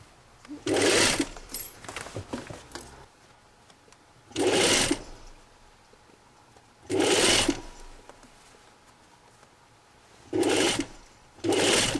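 A sewing machine stitches a Brigand jacket in four short bursts of rapid whirring, separated by quiet pauses with faint handling noises.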